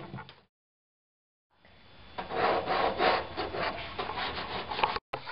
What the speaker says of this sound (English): Now, we smooth out the handle with the rasp and the sanding block.